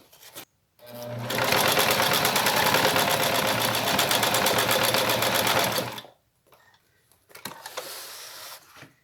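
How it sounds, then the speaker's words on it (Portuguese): A sewing machine stitches the strap of a fabric double pencil case, running loud and steady for about five seconds before stopping, followed by quieter handling of the fabric. "vou encaixar aqui, ó, a peça para poder costurar só aqui no tirante"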